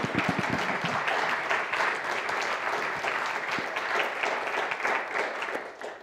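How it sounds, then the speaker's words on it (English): Steady applause from a seated audience at a talk, welcoming a speaker to the floor, sustained dense clapping for six seconds that fades slightly at the end, with no voices over it. "join me in a welcoming hand"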